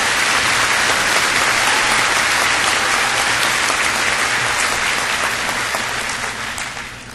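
A commencement ceremony audience gives a loud, sustained round of applause for two graduates, the clapping dense and even before tapering off toward the end.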